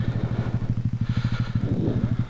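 A Talaria Sting electric off-road motorbike rides over dirt trail terrain at an OHV area. Fast, regular rhythmic thumps and clatter from the chassis and knobby tires repeat steadily, close and fairly loud, with no voices.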